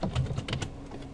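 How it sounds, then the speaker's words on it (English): Typing a username and password on a computer keyboard, a quick run of close, crisp key clicks for about a second with no talking. "So let's go ahead and type web user, and let's type password."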